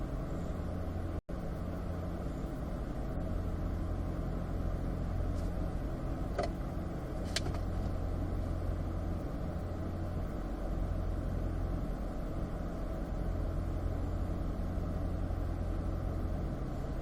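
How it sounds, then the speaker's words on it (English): A car engine in fourth gear hums at a steady, moderate drone from inside the vehicle during a track practice day, with a brief click near the start and no talking. "Fourth gear is going to get a little louder"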